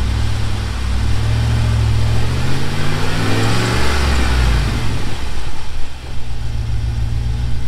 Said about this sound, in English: It's telling me to increase my RPM.